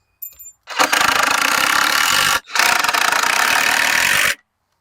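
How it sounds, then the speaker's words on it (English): A power drill drives screws into wooden porch stair stringers in two long, loud whirring bursts separated by a short pause, close up. "I'll get the other 2 screws in and my stringers are in"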